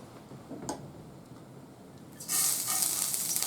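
Vegetables hit a hot pan for natto pasta and break into a loud, steady sizzle after a quieter stretch with a few soft clicks.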